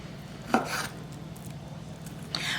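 A knife chops through bone-in pork ribs on a cutting board, one sharp whack followed by a softer cut and another knock near the end, over a low steady hum.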